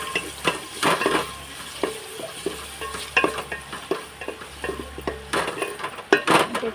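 Spices frying in a pan, a low steady sizzle under intermittent scrapes and knocks of a spoon against the metal, close and uneven, with no voices.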